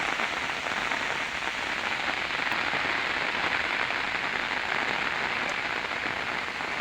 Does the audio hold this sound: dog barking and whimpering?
no